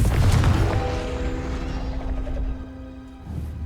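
The Confringo fire spell in Hogwarts Legacy goes off as a deep, booming blast up close, followed by a rumbling tail with a lingering tonal ring that fades out.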